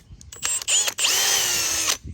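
A power drill reaming out a hole buzzes in two quick short bursts, then runs for about a second in one steady, close, high-pitched whir.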